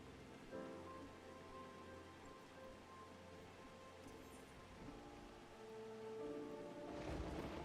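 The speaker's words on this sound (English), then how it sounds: "Boy, lightning." Thunderstorm in Final Fantasy XIV: steady rain patter with a low rumble of thunder beneath, faint overall and swelling louder near the end, with no talking.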